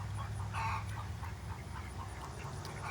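Egg-laying hens cluck faintly in short bursts over a steady background hum, with a few duck calls mixed in.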